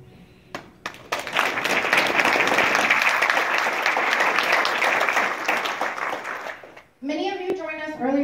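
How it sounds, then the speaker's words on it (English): An audience at a Democratic fundraising gathering breaks into a loud, sustained round of applause lasting about five seconds, fading out before a speaker resumes talking. "I really think we need to give ourselves a round of applause."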